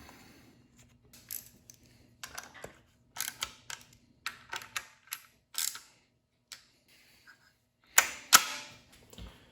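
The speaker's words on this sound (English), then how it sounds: "Now we can install the bolts and then just snug it down." Bolts being threaded in and snugged down on a Mustang transmission during a rebuild: sparse, close mechanical clicks, ratcheting and metallic taps in short bursts, with a sharper clatter near the end and no talking.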